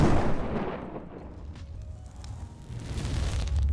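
A huge explosion as an orphanage burns down: a deep, rumbling boom that rolls on as a sustained low roar, loud and near, with no voices.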